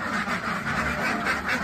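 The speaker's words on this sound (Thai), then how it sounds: "เป็ดตัวเมียหมดเลย" Female ducks kept for eggs in Bangkok quack repeatedly and fairly close, a continuous chattering flock with no talk over it.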